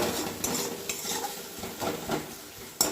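A spice paste (masala) sautés in a pan for a mixed dal tarka, a soft sizzle under repeated scraping strokes and light clinks of a spatula against the pan.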